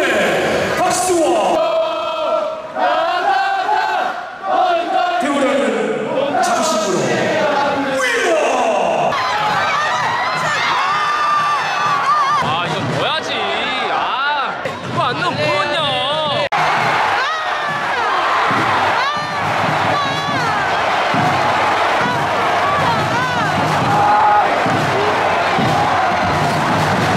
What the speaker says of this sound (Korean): 선수단이 입장하고 있습니다. 팬 여러분들의 응원의 박수와